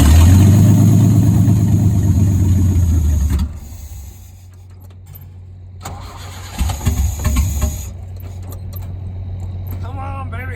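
A Chevy Luv truck with its choke plate removed starts. A loud, close engine runs and revs at first, then drops to a lower idle with brief bursts of throttle while a voice talks over it.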